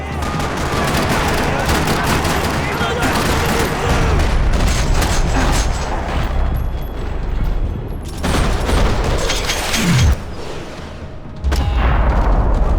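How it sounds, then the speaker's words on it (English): Dense, rapid gunfire rattles almost continuously through a parking lot shootout in the video game Max Payne 3, loud bursts overlapping with booms and brief pauses between volleys. "Another parking lot rattling with gunfire."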